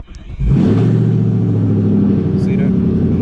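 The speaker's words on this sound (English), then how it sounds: "Let's turn the car on." A Chevrolet Camaro SS fitted with an AFR gauge cranks and fires up, then settles into a loud, steady rumbling idle, recorded close from inside the car.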